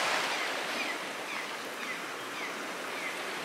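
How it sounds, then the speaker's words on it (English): Creek water flowing at a shallow bush creek crossing in Bendethra, a steady broadband rush like gentle rapids, close and unbroken, with no talk. "this is a little creek crossing that we've got going on through here."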